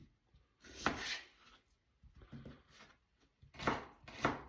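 A knife slices half a kilogram of onion into thin strips on a board, a few quiet separate cuts with gaps between, close by and with no one talking.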